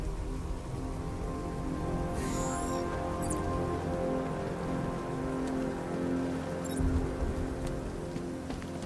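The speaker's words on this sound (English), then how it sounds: "What's with all the rain?" Steady rain pours down in the video game Batman: Arkham Knight in a continuous hiss, with a few brief sharper splashes or rattles standing out along the way.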